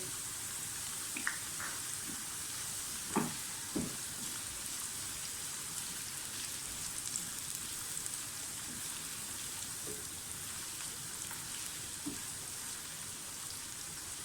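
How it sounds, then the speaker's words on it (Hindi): Potatoes and onions frying in a pan for a Spanish omelette, a faint continuous hiss and crackle with a few soft spatters, quiet and steady throughout. "आलू जो है वो मीडियम फ्राई होना शुरू हो गए। अच्छा, अब इसमें प्याज यानी कि अनियन डाल दें।"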